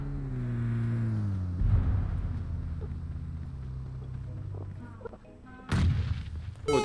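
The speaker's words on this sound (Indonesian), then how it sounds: "Oh itu ngebom dia tuh. Ada bom tuh." Explosions from the PUBG Mobile battle game: heavy booms and gunshot bursts, one loud blast near the end, with a low engine drone and scattered game noise in between.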